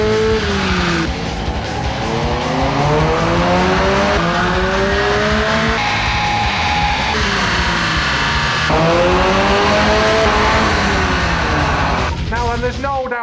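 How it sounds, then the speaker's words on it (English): Car engine revving hard on a dyno through a 4-inch exhaust pipe, loud and continuous with rising and falling pitch sweeps as it climbs through the revs, close by, with voices over it. "that 4-inch pipe was making a sweet noise"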